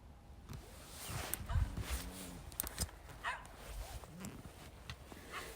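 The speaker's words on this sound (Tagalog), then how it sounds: "The dog! Come on," A dog barks in short, scattered bursts among rustling and footsteps outdoors, loud and close, while a person cries out in alarm.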